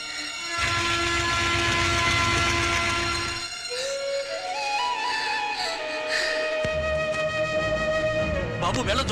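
A train crosses nearby, its loud horn blaring in long sustained tones over rumbling wheels, then a second drawn-out horn blast with rattling carriages as the sound shifts and fades.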